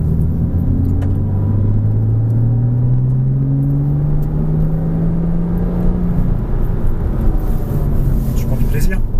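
A car accelerates hard out of a corner on a race track, its engine note rising steadily in a loud, continuous drone heard from inside the cabin, with people talking over it.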